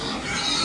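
Pigs on a farm grunt and snuffle in a dense, continuous noisy burst, loud and close, with no speech.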